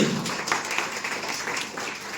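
Applause from an audience at a business seminar, a dense steady wash of clapping that holds for a couple of seconds.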